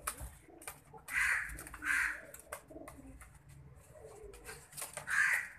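Roughly 17 crossbred pigeons held in a cage coo repeatedly in close, rounded bursts, with fainter bird calls and rustling between the louder phrases.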